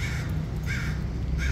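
Crows caw in harsh, repeated bursts near a city beach with grassy areas along the Embarcadero, three calls spaced evenly over steady low background rumble, fairly close and clear.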